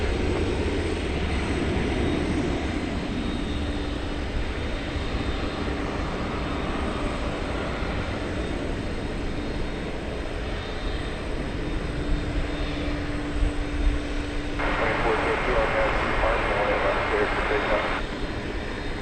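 A jet airliner sits on a runway at DFW Airport after dark, its engines holding a steady, heavy roar for the whole stretch, with voices talking over the drone.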